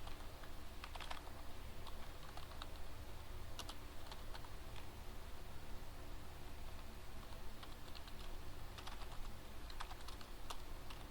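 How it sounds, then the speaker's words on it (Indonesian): Steady run of computer keyboard typing as database commands are entered, brisk irregular key clicks close to the microphone under a faint background hiss, with no voices. "Di sini saya akan mengetikkan perintah"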